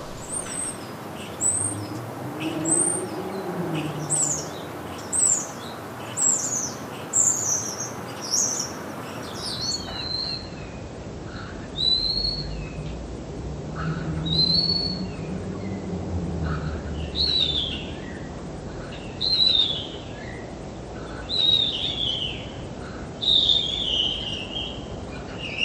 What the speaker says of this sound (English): Starlings make a vast array of sounds, so let's hear them at normal speed